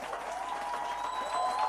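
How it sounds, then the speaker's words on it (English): An audience at a sustainable business workshop and expo applauds its finalists with steady, dense clapping throughout, with no talk over it. "Let's give our finalists a round of applause."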